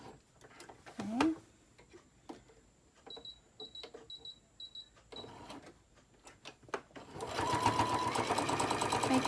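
A sewing machine stitches a candy corn print mug rug in fast, steady bursts with short pauses between runs, growing louder and continuous toward the end, with a brief voice near the start.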